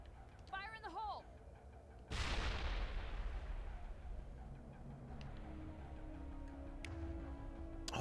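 A grenade blows up in Mass Effect, a sudden heavy boom with a long rumbling decay after a brief stretch of voice and game sound effects, and a low tone lingering beneath it.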